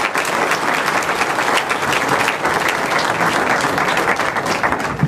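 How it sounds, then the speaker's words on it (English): Sustained applause from an audience at a speaking event, a dense, loud wash of clapping that holds steady from start to finish with no pauses. "So let's have a round of applause for Chris, and here he comes."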